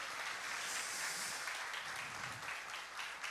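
A church congregation at a Sunday worship service applauds steadily, a dense, even wash of hand claps sustained throughout at moderate distance, with no voices over it.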